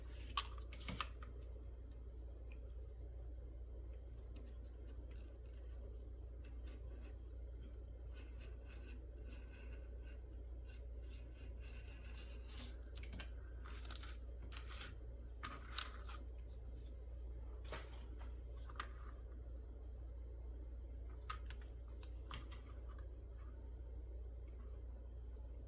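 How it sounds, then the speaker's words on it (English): A craft blade slices through paper model parts in quiet, close, irregular strokes and scratchy rasps, some short and some drawn out, over a low steady background hum. "I'd like to just cut mine out on the back, just because it just makes it easier for my blade."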